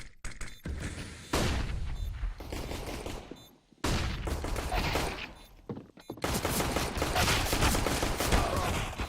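Automatic and rapid rifle fire from the video game Counter-Strike: Global Offensive comes in several long, dense bursts with brief gaps between them, loud and close, with no talking.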